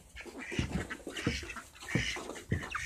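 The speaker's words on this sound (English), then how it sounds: "Come on, ducks!" Domestic ducks quack in a handful of short, nasal bursts, calling close by and fairly loud at an uneven rhythm with no talk.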